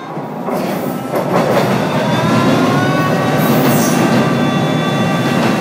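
A train rumbles along the tracks nearby, loud and steady, with rhythmic clatter and a thin metallic squeal rising over the roar.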